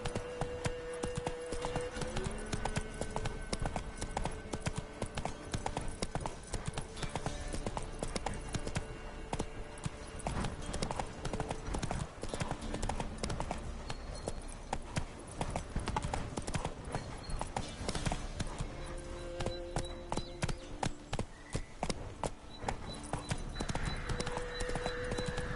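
Horse hooves clip-clop steadily in a video game as the witcher's horse Roach runs then slows, a continuous rhythmic trot over game music and ambience, with an occasional whinny.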